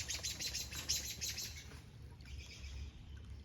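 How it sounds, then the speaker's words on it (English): Two birds squabble high overhead, giving a rapid series of bright chirps that are loudest early and then thin out, heard from a distance outdoors with no talking. "there was two birds way up there fighting"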